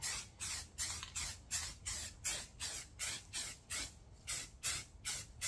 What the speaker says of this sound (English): I'm just gonna go ahead and spray base color black